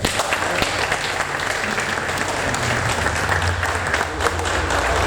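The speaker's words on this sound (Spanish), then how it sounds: "Un fuerte aplauso final" An audience at a business breakfast with presidential candidates in Peru applauds a candidate, sustained dense clapping from a crowd filling the room at an even level, with a voice faintly beneath it.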